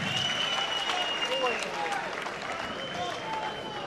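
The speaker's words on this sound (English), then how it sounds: "A big round of applause for both these fighters, Marko Lukačić, Ben Kelleher." A crowd at a fight night in Melbourne applauds and cheers steadily throughout, with a loud announcer's voice speaking over the clapping.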